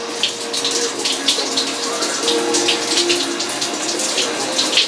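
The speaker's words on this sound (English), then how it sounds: "So they have the water in here, so we can just turn that on." Water runs steadily from a tap inside a Russian-style banya in Nikolaevsk, Alaska, a continuous close splashing rush with faint background sounds and no clear talk.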